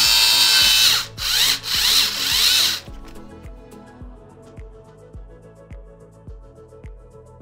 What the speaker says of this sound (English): you're gonna wanna screw in the main body screws